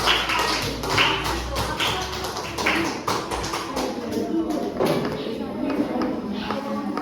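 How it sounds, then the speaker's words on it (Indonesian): A classroom audience claps for a student group in a religious studies lesson, with scattered uneven hand claps and taps, fairly soft, mixed with background chatter. "Silakan tepuk tangan sekali untuk kelompok 1"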